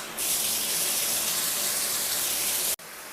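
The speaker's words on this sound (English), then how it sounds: "The first thing to do is fill it up with water." Water running from a tap into a bathtub, a loud, steady gushing stream that starts abruptly, flows evenly, then briefly cuts off before resuming more softly.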